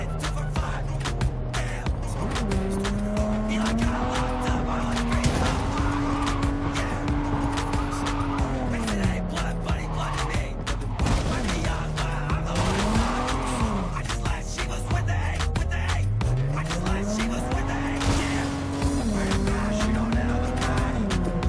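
A Cyberpunk 2077 car on PS4 drives with a steady engine drone whose pitch rises and falls as it revs and shifts, while tires squeal and skid repeatedly over the continuous road noise.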